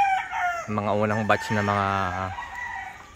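A rooster crows twice on a farm where chickens are kept tethered, two long harmonic calls close by, with a person speaking over the start and in the pauses.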